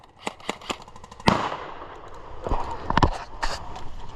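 Rapid sharp pops and cracks of gunfire-like shots with one louder bang as a grenade goes off, followed by more scattered bursts, close and punchy in what sounds like a skirmish game.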